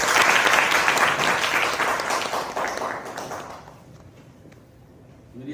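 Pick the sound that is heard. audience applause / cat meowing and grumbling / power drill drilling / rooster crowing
audience applause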